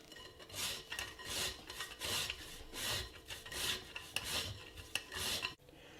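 Lemon zest rasped off a whole lemon on a grater for biscotti dough, a run of about eight short scraping strokes in steady rhythm, close and clear, with no talking.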